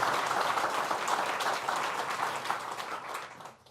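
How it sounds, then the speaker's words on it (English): A crowd at a New York governor's public event in the Southern Tier region applauds in a full, even burst of clapping that fades out near the end. "So let's give another round of applause to the Village of Waverly."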